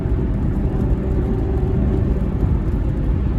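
A passing car's engine, sounding rough and poorly running, rumbles steadily at close range, a low broadband roar holding even for the whole stretch with no voices.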